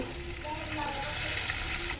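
Fish frying in a pan alongside a vegetable curry, giving a steady, dense sizzle close by that holds even throughout, with faint tonal hums in the background.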